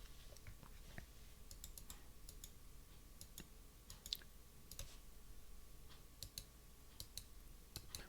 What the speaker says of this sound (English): When you're just clicking the mouse kind of normally, they feel pretty similar.